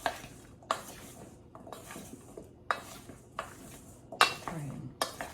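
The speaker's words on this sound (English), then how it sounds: "Then stir this up." A utensil scrapes and clinks around a bowl while grain bowl ingredients, chickpeas and cauliflower among them, are stirred together, with close, repeated strokes in a loose rhythm.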